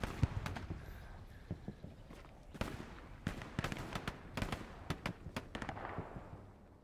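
Combat sounds in the World War II shooter Hell Let Loose, with a grenade blast among a run of sharp, irregular cracks and bangs of gunfire and explosions at varying distances, some close and loud.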